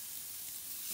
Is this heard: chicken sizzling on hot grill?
yes